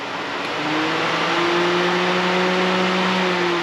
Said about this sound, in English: Now if I click on both of them,